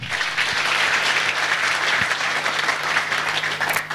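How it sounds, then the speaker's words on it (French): A church congregation applauding after a scripture reading: steady, full clapping from many hands, sustained and fairly close for the whole stretch, with no voices rising above it. "Est-ce qu'on peut acclamer pour la parole de Dieu?"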